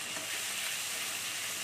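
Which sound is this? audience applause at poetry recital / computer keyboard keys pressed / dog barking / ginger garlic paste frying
ginger garlic paste frying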